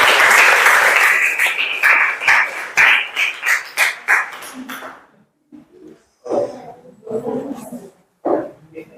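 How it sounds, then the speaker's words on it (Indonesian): Classroom applause from a group of high school students, a loud burst of close clapping that breaks into shorter uneven rounds before fading, followed by scattered voices and movement. "Ayo maju, tepuk tangan dulu untuk Wahyu."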